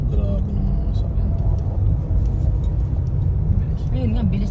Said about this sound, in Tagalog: Bibilis ng sasakyan, ano? Grabe ng sasakyan.